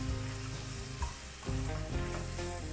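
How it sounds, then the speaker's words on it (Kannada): Finely chopped tomato fries with onions in a pan, giving a loud, continuous close sizzle with occasional stirring scrapes and no speech. "ಟೊಮೆಟೊನು ಒಂದು ಸಲ ಬಾಡಿಸ್ಕೊಂಬಿಡೋಣ ಚೆನ್ನಾಗಿ."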